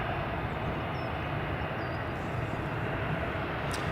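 An aircraft at Edinburgh Airport, a steady distant engine rumble and broadband roar that stays even and unbroken throughout, with no voices.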